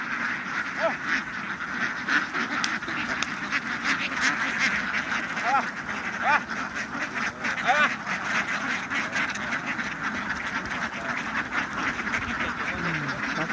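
A crowd of farm ducks quacks steadily while being driven into a catching pen, busy and close, with someone talking over them throughout.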